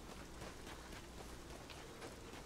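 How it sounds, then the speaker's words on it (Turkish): Steady, soft rainfall in the video game Rise of the Tomb Raider, a constant even hiss of rain with no voices. "Abi müthiş yağmur yağıyor gençler."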